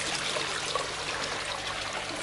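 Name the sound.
water features trickling in a garden pond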